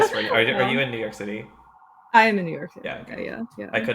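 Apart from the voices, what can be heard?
None of the usual background noises is heard.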